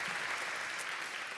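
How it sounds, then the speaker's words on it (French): Applause from an event audience, a dense, even wash of clapping with no breaks, fairly soft and brief. "j'aimerais vous voir applaudir"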